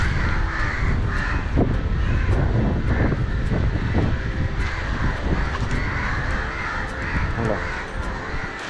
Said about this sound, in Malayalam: പിന്നെ കാക്ക കഷ്ടം, കാക്കകളുടെ തറവാടെന്ന് പറയാം